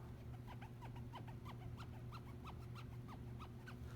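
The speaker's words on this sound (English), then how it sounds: "their machine marks are actually deep enough that they make a zippy sound when you run your fingernail across" A fingernail scraping across the machine-marked socket of a Stanley 750 Sweetheart chisel gives quick, faint chirping zips in a rapid series, over a steady low hum.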